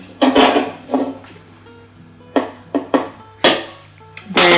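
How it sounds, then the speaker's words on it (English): Garlic is crushed in a Zyliss garlic crusher, giving a series of sharp metallic clicks and clanks, several separate knocks spaced irregularly, close and clear, with no talking. "I'm using my Xylus garlic crusher, which I love"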